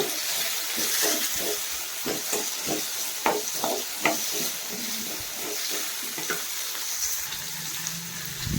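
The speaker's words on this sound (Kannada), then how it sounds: "ಇದೆಲ್ಲ ಹಾಕಿ ಫ್ರೈ ಮಾಡ್ಕೋತಾ ಇದ್ದೀನಿ ನಾನು" Ingredients for a village-style fish sambar frying in a pan, a continuous bright sizzle with rapid scraping and stirring clatter through the middle and a low hum near the end, close and fairly loud.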